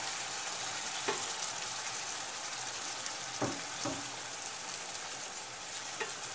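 Chopped tomatoes sizzle and fry in a pan for Turkish menemen, a steady close crackling hiss with a few soft clinks of utensils, no voices.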